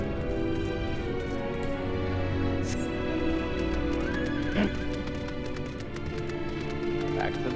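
In Final Fantasy XIV, a game horse whinnies over steady clip-clopping hooves, set against a continuous ambient music bed, with a sharp neigh standing out midway.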